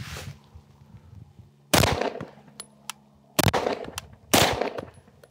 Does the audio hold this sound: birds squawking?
no